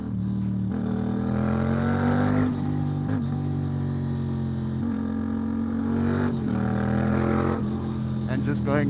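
A Yamaha MT-07 motorcycle threading between cars gives a loud, steady engine drone with rising and falling revs, close and continuous throughout.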